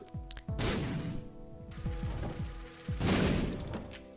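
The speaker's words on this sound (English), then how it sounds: "it's kind of foolish not to bomb every 90-degree coordinate wall to try to find secret rooms" Bombs exploding against dungeon walls in The Binding of Isaac, heard as a burst of several sharp blasts, a pause, then another explosion with a rumbling tail, loud and close in game audio with no talk.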